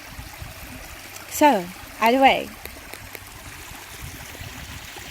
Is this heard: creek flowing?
yes